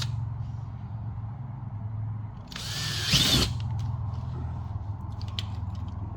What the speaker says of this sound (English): I'm gonna drill if you're happy